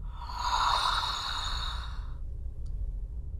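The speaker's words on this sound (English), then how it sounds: "then just breathe in" A person draws one long, deep breath in through the nose, a soft airy rush that swells and fades after about two seconds, followed by quiet.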